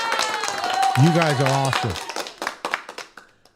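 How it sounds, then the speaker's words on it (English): A streamer says a few words, then claps his hands several times, close and crisp, the claps trailing off at the end. "Let me give you guys a hand of applause."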